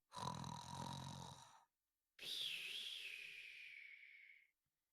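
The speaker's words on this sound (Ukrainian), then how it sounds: "якщо не враховувати хропіння і сопіння, що блукало сонними коридорами замку" Snoring and sniffling drift through the sleepy corridors of a castle at night, two long drawn-out snore-like breaths, the second rising into a whistling wheeze, with silence between them.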